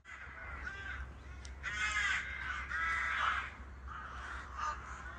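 Several crows caw in harsh, repeated bursts, some overlapping, fairly close, over a low steady hum.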